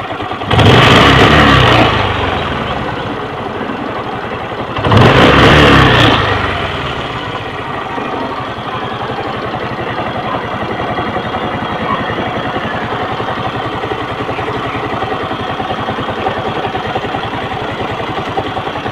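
A Kawasaki LS 135 motorcycle with a carburetor being tuned revs sharply twice in quick bursts, then drops to a steady, close idle.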